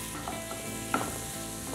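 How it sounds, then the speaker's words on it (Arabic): Minced beef or sausage meat frying in a vegetable mixture for shakshuka gives a brief, steady sizzle, with one soft utensil tap partway through and no voices. "حطها على الخليط ونشوحها لغايه اما تستوي"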